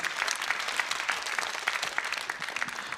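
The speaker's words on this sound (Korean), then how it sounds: "박수 한번 주세요" Audience at a Korean economy concert for young people breaks into dense, steady applause, many hands clapping together at a fairly loud level from start to finish with no talk over it.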